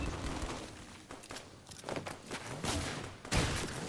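Gunshots in the video game Fortnite, a rapid string of close, sharp shots in irregular bursts over a busy background of game noise.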